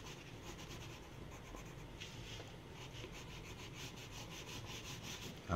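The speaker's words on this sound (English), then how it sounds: "And these are Prismacolor pencils that I'm using right now." Prismacolor coloured pencil rubs steadily over paper in a continuous, quiet scratchy shading stroke with a faint rhythmic texture, heard alone and close.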